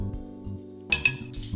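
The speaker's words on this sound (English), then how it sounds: "give that a little whisk" A whisk clinks against a bowl while mixing paprika and garlic powder for crockpot bacon mac and cheese: a few quick, bright metallic taps over a steady low kitchen hum.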